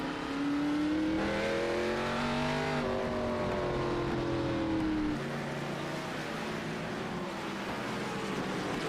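Several ARCA stock cars race around Laguna Seca in a racing video game, with loud, continuous engine drones rising and falling in pitch as cars pass and shift, one car dominating before a steadier lower roar.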